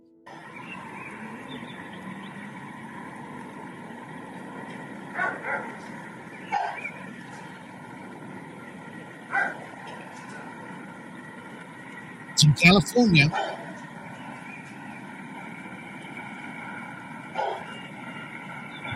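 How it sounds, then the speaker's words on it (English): Dogs barking in California, short distant bursts scattered over a steady hum, with one louder cluster midway, while someone talks throughout. "Dogs are going nuts."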